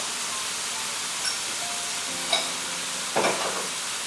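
Pink Himalayan salt goes into prawns cooking in a pan over medium heat, a steady soft sizzle with light stirring and a few small scrapes and clinks near the end.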